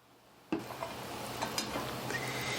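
Half an onion, mushrooms and peas hit a hot pan reused from cooking shepherd's pie filling, a sudden sizzle that keeps hissing steadily, with a few soft stirring scrapes and clinks.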